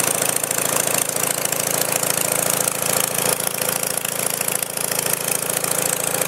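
A small engine runs steadily once the choke is turned off, a loud, close, rough idle with a fast knocking rhythm and no talk over it.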